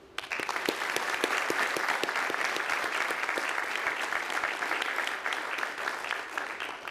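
An audience applauds panelists with a dense, steady round of clapping that holds at an even level from start to finish, with no voices over it.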